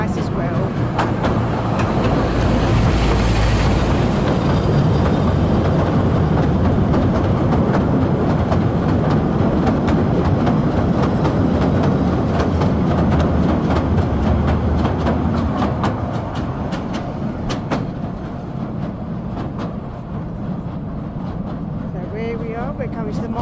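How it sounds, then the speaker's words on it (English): A train passing along the Southend pier railway, a long loud rumble and rattle of wagons close by with clicking wheel noise that fades as it moves away, with voices heard in the background. "Well, the train's nice as well."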